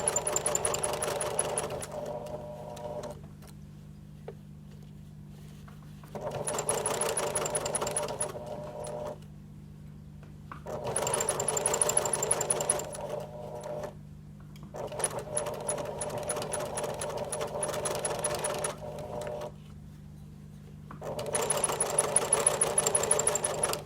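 A sewing machine stitches a curved seam on a cloth mask, running in several steady bursts of a few seconds each, with short quiet pauses between runs and a low background hum throughout.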